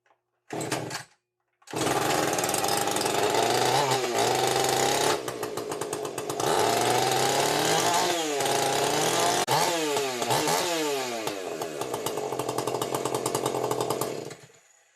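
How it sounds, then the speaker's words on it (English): A Husqvarna 450 Rancher chainsaw fires after a short false start, then runs loud and close, its engine revving up and down repeatedly before cutting off, with no talking. "that little Husky don't sound bad for a homeowner saw"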